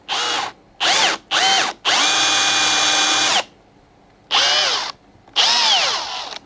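A power drill whines in close, loud bursts while boring a hole, a few short pulses and then one long sustained run, followed by two more bursts separated by brief silences.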